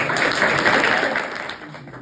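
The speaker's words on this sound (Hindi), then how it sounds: "ताली बजाते रहो।" An audience at a school scholarship award ceremony applauds in a dense, steady wash of clapping that is fairly loud and then gradually fades.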